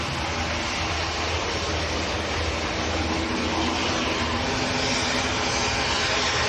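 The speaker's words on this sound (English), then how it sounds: "EasyJet on the roll" An EasyJet airliner on its takeoff roll at Manchester Airport produces a dense, continuous engine roar and rumble, loud and steady throughout with no talk.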